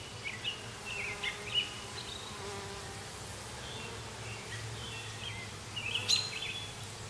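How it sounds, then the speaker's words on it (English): Dense swarm of honeybees crowding the top of a hive box with foundationless frames, a steady close buzzing drone with occasional louder passes of individual bees near the ear. "there's a lot of bees on the top of the box."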